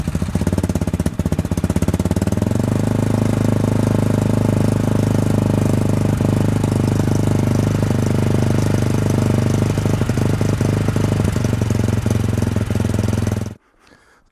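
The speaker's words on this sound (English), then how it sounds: "Now let's get the bike started and go for a test ride." Single-cylinder AJP PR7 motorcycle engine with a remapped ECU starts up and settles into a loud, steady, chugging idle close by, running for about thirteen seconds before cutting off abruptly.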